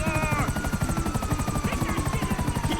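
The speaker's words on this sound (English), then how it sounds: "Get to the chopper!" A helicopter in the video game GTA 5 Online thumps with rapid, steady rotor chopping close by, loud and continuous, with a faint voice and other game sounds mixed in.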